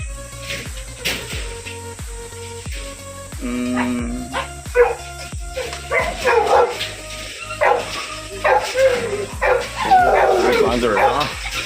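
Eight-day-old grey Cane Corso puppies at a dog kennel yip, bark and whimper repeatedly in close, overlapping bursts, with people talking among them.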